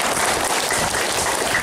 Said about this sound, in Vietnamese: Chúng ta cho một tràng pháo tay.